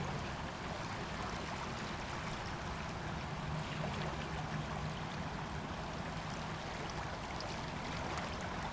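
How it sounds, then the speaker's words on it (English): The Vistula river current near Warsaw rushes in a steady, broad wash of flowing water, continuous and fairly close, with no voices over it. "Look at this current."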